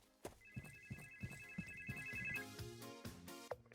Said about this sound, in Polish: Odbierz telefon. Jeszcze ktoś do mnie dzwoni.